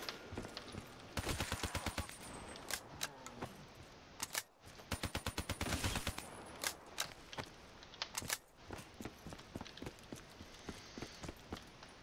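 Gunfire while killing zombies on a custom Black Ops 3 map, rapid bursts and scattered single shots at moderate loudness, repeated throughout with brief gaps.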